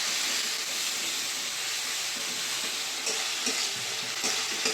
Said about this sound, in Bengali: দিয়ে দেবো টমেটো কুচি, মশলাটা কষিয়ে নেব।